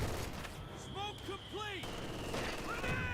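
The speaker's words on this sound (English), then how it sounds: "I've got the other MG42 still firing away uncontested" Gunfire from an MG42 machine gun in the Company of Heroes 2 war strategy game, a steady battle din of shots and explosions with whistling shells, busy and continuous throughout.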